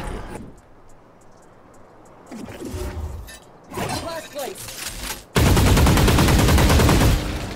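Valorant gunfire crackles in a one-versus-one match against a Vyse, bursts of shots and rapid automatic fire ending in a loud sustained roar of effects, with a player talking over it.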